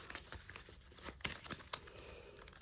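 Oracle card deck being shuffled by hand, quiet papery riffles and crinkling slaps in quick irregular bursts, close and soft.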